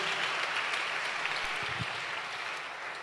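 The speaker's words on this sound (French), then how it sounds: "Est-ce que tu peux ajouter une bonne main d'acclamation à la parole" Congregation applauding after a Bible reading at a church service, a faint, distant wash of clapping that holds steady and slowly fades toward the end.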